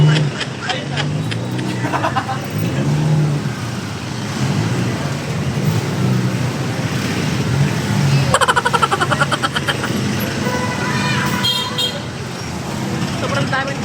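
A van pulls up amid a loud, crowded roadside at night, engine rumble and traffic noise mixed with a horn toot and the chatter of many people nearby.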